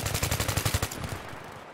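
Sustained automatic machine gun fire in Battlefield 3, a rapid burst of closely spaced shots for about a second, then fading into scattered echoing reports and battlefield ambience.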